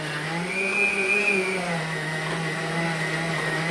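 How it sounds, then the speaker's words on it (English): Electric meat grinder grinding hamburger meat: a loud, steady motor whine with a slight rise and fall in pitch, running continuously throughout. "I'm going to continue grinding this up"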